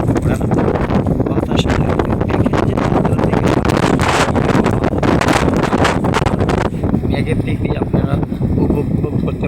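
Strong gusting wind buffets the microphone beside a canal in Cox's Bazar before rain, a loud continuous roar with rustling, while a person talks over it.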